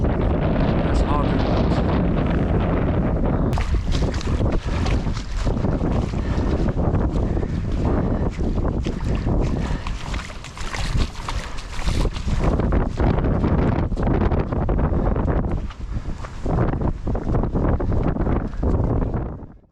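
Loud, constant strong wind buffeting the microphone outdoors by a lake at a campsite in Keswick, a roaring rumble with gusty swells and brief dips.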